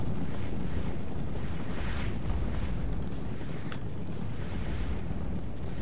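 Artillery fire on the Waterloo battlefield in Scourge of War Waterloo rolls as a continuous low rumble of deep booms, heavy and sustained, with no voices over it.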